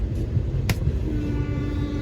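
A train ride heard from inside the coach, a steady low rumble and rolling drone throughout with one brief sharp click near the start.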